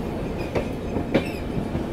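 The Siddhabali Jan Shatabdi Express pulling into Muzaffarpur Junction, heard as a steady rolling rumble of railcars with two brief clacks of the wheels over rail joints and a faint squeal, with no one speaking.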